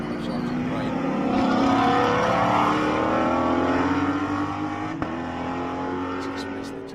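Race cars roar along a track in a sports car race, engines swelling loud as they pass and rev into braking, with a commentator talking over the steady motor noise.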